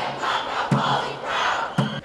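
Student protesters marching through a college campus, a crowd voicing a steady collective chant in rhythmic waves with two sharper shouted accents, heard at moderate distance without other talk.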